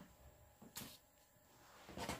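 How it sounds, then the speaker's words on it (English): A household drawer pulled open and pushed shut while nail airbrushing supplies are gathered, giving two quiet wooden knocks about a second apart in a still room. "I'm just getting me things out the drawer to see what I can use"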